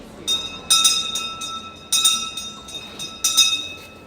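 Maria Fumaça steam locomotive on the old São Paulo Railway in Mooca, São Paulo, giving three bright, ringing metallic bursts at a steady interval, clear against a quiet background.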